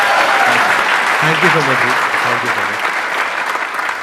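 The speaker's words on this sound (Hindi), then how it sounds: "उनके लिए जोरदार तालियां" Loud audience applause fills a hall in a steady wash of clapping, with a voice speaking over it near the start before the clapping gradually thins.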